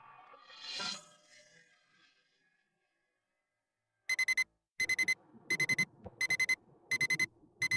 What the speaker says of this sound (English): waited in bed for his mother's alarm to go off on her phone